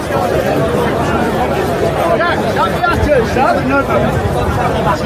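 A huge crowd at the Unite the Kingdom rally in Britain produces dense, steady babble of many voices talking at once, loud and close all around with no pause.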